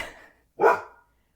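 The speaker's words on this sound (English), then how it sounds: "Not sure what she is barking at, but hopefully she stops quickly." Libby, a dog, gives a single sharp bark at fairly close range, preceded by a fainter trailing sound and followed by silence.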